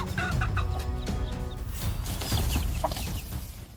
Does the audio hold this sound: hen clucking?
yes